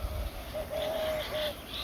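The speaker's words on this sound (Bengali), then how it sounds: "অনেকই ঘুঘুর পাখির ডাক শোনা যায়, খুব ডাকে।" A dove coos in a Bangladeshi village in the late afternoon, a short soft call of a few mellow notes, moderately near, over quiet background hiss.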